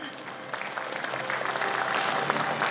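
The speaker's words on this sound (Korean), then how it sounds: "박수 부탁합니다." A room full of people at a job project launch ceremony claps steadily, a dense crackle of applause that builds slightly louder toward the end.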